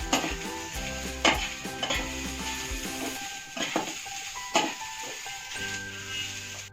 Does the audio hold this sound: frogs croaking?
no